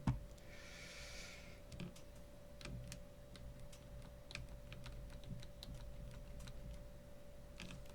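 Close computer keyboard typing while writing code, irregular light clicks scattered over a steady faint electrical hum, with no voices.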